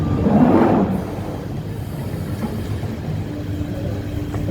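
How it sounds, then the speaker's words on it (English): A steady low rumble and rattle from inside a moving London Underground train carriage, louder at first and then settling into a constant roar, with no voices. "I am in one of the underground trains on my way to the next underground station."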